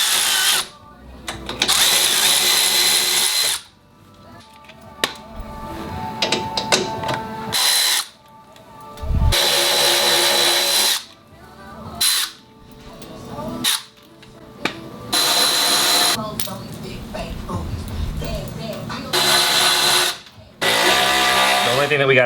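Power tool unscrewing washer-fitted bolts from a Jeep Wrangler skid plate, sounding as several loud, close bursts of whirring and ratcheting separated by short pauses, with a voice speaking between them.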